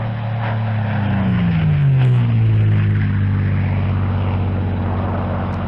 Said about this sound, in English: So the Spitfires would be climbing furiously into the air